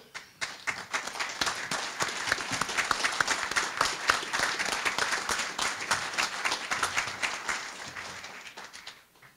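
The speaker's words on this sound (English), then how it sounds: "Let's give this outstanding officers another well-deserved round of applause." Sustained audience applause at a homeowners' association annual awards ceremony, dense steady clapping from a crowd that swells quickly and tapers off near the end.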